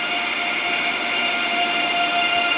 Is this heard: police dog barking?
no